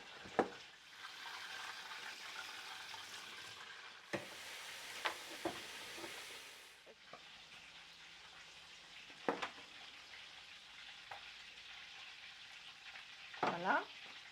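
Food with pounded garlic sizzles steadily in a hot pan while a utensil scrapes and stirs, with a few sharper clinks and knocks throughout; no one talks.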